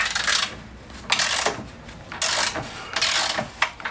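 A ratchet with a 21 mm socket turns a bolt on a Peugeot 206 front axle, four rough grinding strokes of metal clicking, close and fairly loud with a steady rhythm.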